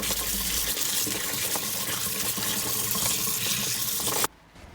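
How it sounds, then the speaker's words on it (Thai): Soaked garlic cloves, steeped in limewater, being rinsed under running tap water in a sink, a steady close splashing flow that stops abruptly near the end. "นำกระเทียมที่เราแช่น้ำปูนใสมาล้างค่ะ ล้างให้สะอาด 2-3 น้ำค่ะ"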